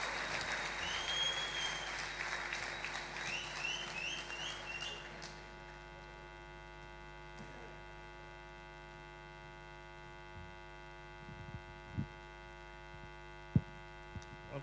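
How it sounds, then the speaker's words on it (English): Audience applause at an ICT summit, a dense burst of clapping for the first five seconds that then stops, leaving a steady mains hum and a few faint knocks. "Can you please give him a warm round of applause?"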